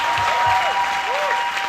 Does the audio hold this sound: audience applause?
yes